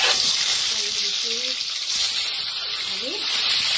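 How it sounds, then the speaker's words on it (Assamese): Egg and salted potato pieces fry in a pan with a steady close sizzle, while faint voices murmur underneath. "এয়া কণী আৰু আলু ভাজিবৰ কাৰণে অকণমান নিমখ দি দিছোঁ।"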